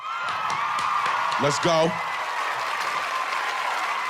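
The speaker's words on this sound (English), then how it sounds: "Let's get some more claps" Podcast audience applause, a broad steady wash of clapping that fills the whole stretch, with a voice calling out briefly over it.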